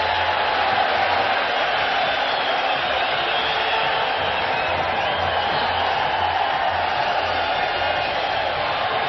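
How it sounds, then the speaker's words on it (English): Dense, steady roar of a large stadium crowd at a 1986 World Cup match in Mexico between Denmark and Scotland, a continuous wash of massed voices with no breaks, fairly loud and filling the whole stretch. "If you're wondering about the tremendous roars going up around the stadium"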